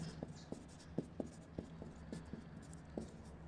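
A pen writes on paper during a maths lesson on sets, making faint, close, irregular scratchy taps and short strokes over a quiet room hiss.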